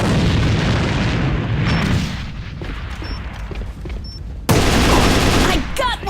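A grenade blast and gunfire in the online shooter A.V.A during a match: steady, noisy battle din with scattered shots, then a sudden loud burst of explosion noise near the end.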